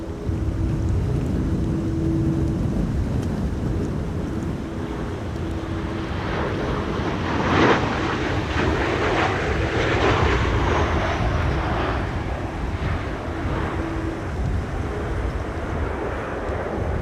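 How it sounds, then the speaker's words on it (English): KLM airliner arriving at Amsterdam Schiphol during a storm, a steady broad engine roar swelling slightly midway and mixed with strong wind rumble, continuous and moderately distant. "Here we have KLM flight 1164 arriving from Bergen"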